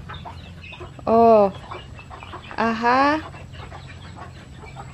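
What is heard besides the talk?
chicken clucking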